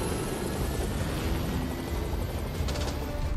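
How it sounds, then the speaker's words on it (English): A helicopter hovers just above a lake beneath a bridge in a movie stunt, its rotor and engine roar loud, close and continuous, with no talk. "A chopper hovering inches above the lake and beneath the bridge is exhilarating"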